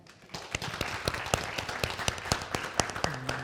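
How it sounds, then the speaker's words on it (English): Conference audience at a United Way event claps in a loose, fairly sparse patter of distinct individual claps that build to a moderately loud, uneven burst, with a brief voice entering near the end. "Give her a round of applause."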